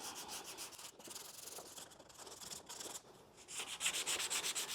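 Hand sanding of a car firewall with 180 grit sandpaper, a steady close scratchy rubbing in repeated back-and-forth strokes with brief pauses, and no talking.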